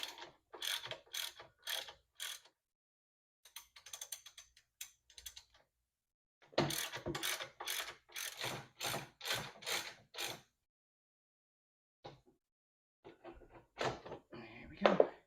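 A ratchet with a hex bit works loose two big old 1/2-inch Allen bolts on a Vulcan 750 motorcycle during a stator job, giving bursts of rapid clicking in several separate runs with pauses between, close and fairly loud, with no talk.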